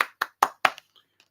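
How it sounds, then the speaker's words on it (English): Four sharp, close hand claps from a single person in quick succession, each ringing briefly, followed by a couple of faint trailing taps in a quiet room. "So everybody give Albert Bostic a round of applause if you can."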